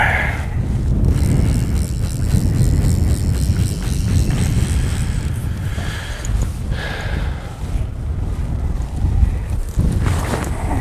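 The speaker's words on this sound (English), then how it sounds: "the wind is getting a lot more serious through here" Strong wind buffets the microphone on a fishing boat, a loud continuous roar with gusts throughout.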